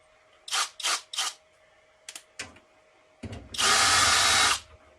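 A power drill works on the case of an old, dirty MSI 645E Max-U motherboard bought at a flea market: three quick whirring bursts, a few shorter blips, then one long, loud, steady run, close up with no voices.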